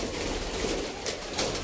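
Pigeons kept for sale in Sialkot, soft low cooing close by over a steady background hum, brief and fairly faint with no talking.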